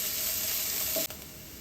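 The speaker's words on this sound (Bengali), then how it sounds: "একটু পেঁয়াজটাকে একটু লাল লাল করে ভেজে নেব" Onions frying in a pan to reddish-brown before small fish are cooked, a loud close hiss of oil with a faint clink just after one second.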